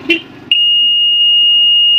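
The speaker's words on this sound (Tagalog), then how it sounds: "kaya siya tumutunog kasi naka-series nga yung buzzer, may supply siya ng battery." After a brief click, a continuity tester's battery-powered buzzer sounds loud and steady, holding unbroken at one pitch until the end.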